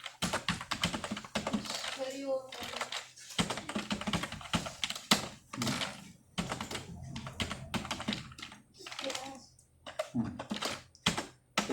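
Dummy names being entered on a computer keyboard during a spreadsheet lesson in MS Excel 2019: steady bursts of close key clicks with short pauses, talk over parts of it.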